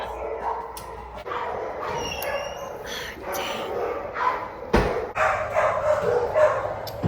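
Several dogs bark and yip in a busy, crowded SPCA shelter kennel, the barking fairly loud and continuous with overlapping calls and a few sharper bursts, with faint human voices now and then.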